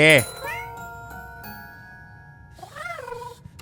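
A cat in the horror video game The Baby in Yellow meows loudly once, then gives a second, softer, rising meow about two seconds later against quiet game ambience.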